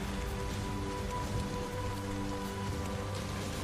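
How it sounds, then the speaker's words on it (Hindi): Heavy rain pours steadily onto a surface, a dense, constant hiss with no voices or breaks. "एक दिन बहुत ज्यादा बारिश आने लगती है"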